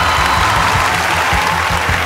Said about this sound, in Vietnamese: Chuẩn bị vỗ tay thật lớn cho Phạm Trưởng hối hận nha.